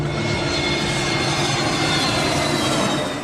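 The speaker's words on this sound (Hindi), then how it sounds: "विमान रनवे पर दौड़ता हुआ उड़ान भरता है" An airplane roars down the runway at Mumbai airport on its takeoff run, a loud, sustained, broad engine rush that stays steady throughout.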